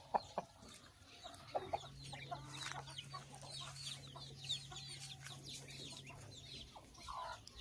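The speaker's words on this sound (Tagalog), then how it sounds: "Ito naman po ang isang tandang namin." A rooster on a backyard farm clucks in short, scattered bursts at moderate distance, with other birds and outdoor ambience around it.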